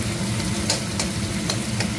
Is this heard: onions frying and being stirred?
yes